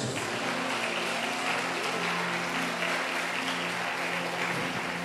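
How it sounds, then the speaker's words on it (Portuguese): A church congregation applauds during a sermon, a dense, steady wash of many hands clapping together at full strength throughout, with a faint low hum beneath. "Aplauda Jesus."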